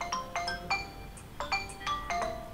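A phone ringtone chimes in quick bursts of bright electronic tones, repeating in a regular pattern at moderate volume, with no voices.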